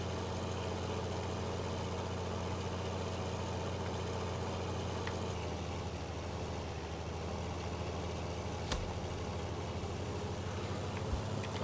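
Deep, continuous low engine rumble from the world's largest tractor in Farming Simulator 19, a 600-horsepower machine, holding a steady idle with a couple of brief clicks and no voices.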